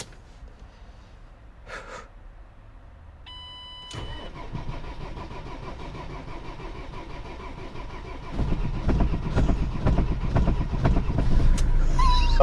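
A One Piece-themed camper van engine cranks and catches at about four seconds, then idles steadily and grows louder and rougher toward the end, close by with no talk over it.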